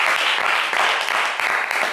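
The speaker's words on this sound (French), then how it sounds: "Je pense que ça mérite plus d'applaudissements que cela." Studio audience on a TV game show applauds steadily, a dense continuous patter of clapping filling the room throughout.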